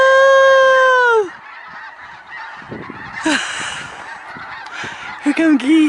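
Geese honking loudly at close range in a wetland bird refuge, a long nasal honk followed by a chorus of overlapping calls and sharp repeated honks toward the end.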